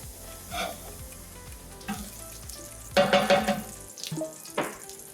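Vegetables and pepper for a vegan wild rice stuffing sizzle and fry in a pan, with a few spoon stirs and scrapes, a steady close crackle that flares louder midway, no talking.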